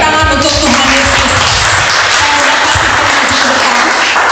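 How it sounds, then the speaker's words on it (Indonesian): A church congregation at a Sunday service breaks into loud, sustained clapping that fills the room, a dense wash of hands with crowd murmur running throughout. "Beri tepuk tangan untuk Tuhan Yesus."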